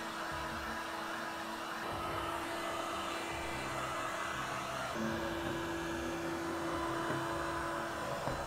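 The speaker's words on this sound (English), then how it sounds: "we grab the heat gun, we'll dry the internal corners, make sure all these around the showers dry" A heat gun drying the internal corners around a shower before siliconing, giving a steady, loud blowing whine with a fan rush that holds constant throughout, close to the listener.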